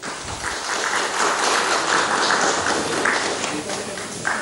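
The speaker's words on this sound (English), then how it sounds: "A standing ovation there, huge applause." Sustained, loud applause from a large audience giving a standing ovation at the India Today Art Awards ceremony, dense steady clapping throughout with no speech over it.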